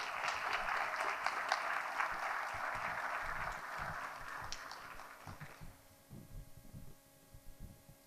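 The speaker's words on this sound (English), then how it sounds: "Please give them a round of applause." Audience applause at a high school senior honors and department awards ceremony, a steady dense clapping from a large crowd for about six seconds that then fades into scattered claps.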